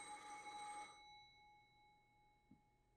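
A telephone in the visual novel game Umineko Chiru rings with a bright, steady electronic tone that cuts off after about a second, leaving a faint lingering hum and quiet background.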